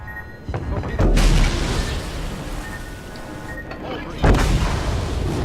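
Torpedo hits explode against a ship in World of Warships, a naval combat video game: two heavy booming blasts, one at about a second in and a louder one near four seconds, over a continuous rumbling battle din.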